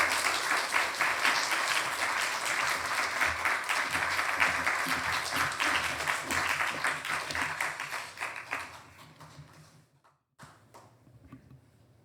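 Congregation at a Korean church's youth Sunday afternoon service applauds loudly and steadily to welcome a pastor, a dense wash of clapping that fades out near the end, leaving near-silence and a few faint sounds.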